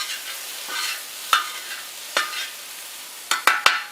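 Cubed breakfast burrito filling sizzles steadily in a pan while a utensil scrapes and pushes it up the side, several sharp clinks and scrapes punctuating the continuous frying hiss, close and clear without speech.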